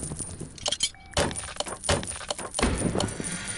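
Car parts being removed in the Car Mechanic Simulator video game with Ford GT-40 and Lotus Esprit S1 rebuilds clunk and clatter in a quick irregular series of metallic knocks and jangles, up close, with no talking.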